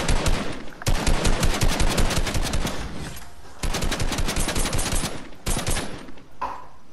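Automatic gunfire from a shooting video game rattles in several rapid strings of shots separated by brief pauses, loud and close, with no talking.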